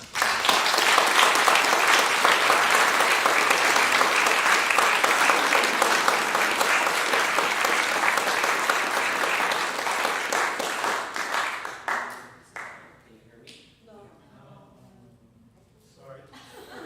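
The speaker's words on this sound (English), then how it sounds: "Let's please give him a round of applause." Sustained audience applause for a cellist at an afternoon Friends of Music concert in a Unitarian church, loud and steady for about twelve seconds before thinning into scattered claps and room noise.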